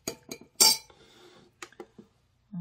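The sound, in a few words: stirring DIY keratin shampoo mixture in a container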